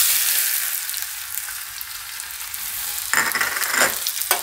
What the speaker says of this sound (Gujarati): આ તેલ આપણું ગરમ થઈ ગયું છે તો એમાં આપણે લસણ નાખી દેવું